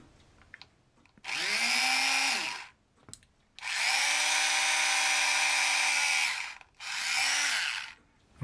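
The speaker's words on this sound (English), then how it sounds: "if I hold this with my right hand, or my left hand, and drill with my right" A power drill bores a hole for an LED in a model ship, whining in three separate bursts, each with an audible spin-up and spin-down and short pauses between them, close and loud.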